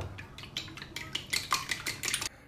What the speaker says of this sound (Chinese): 把鸡蛋打散